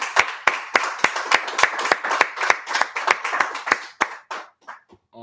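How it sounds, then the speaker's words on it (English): A class of students claps together in a room, around twenty sharp, fairly regular claps in quick rhythm, loud and close, slowing and thinning out near the end as a few stragglers finish. "Let's go ahead and clap it up."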